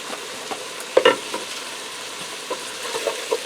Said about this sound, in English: We're going to saute that in with the ground beef.